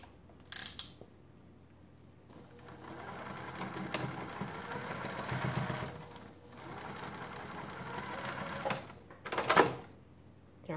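A sewing machine back-stitches a strap connector at an eighth-inch seam allowance, running in two steady mechanical bursts with brief pauses between and a sharper clatter near the end, alone without talk.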